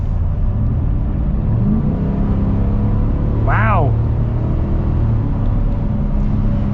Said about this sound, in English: It feels like a muscle car engine in a pickup truck.